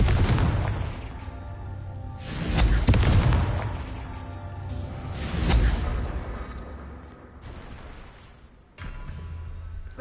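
A Confringo fire spell explodes in Hogwarts Legacy, two heavy booming blasts a few seconds apart, each rolling off into a rumbling tail over a steady game background.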